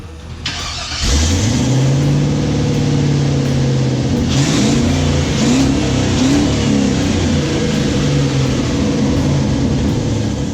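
A twin-turbo LS V8 in a Toyota Hilux cranks and fires after a moment of quiet, then settles into a loud, close, rumbling idle with repeated rising and falling revs throughout.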